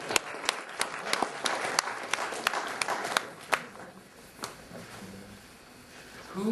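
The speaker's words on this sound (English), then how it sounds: "Another round of applause." Scattered audience applause at a game development tools design talk, sharp individual claps repeating irregularly at moderate volume, thinning out and fading toward the end.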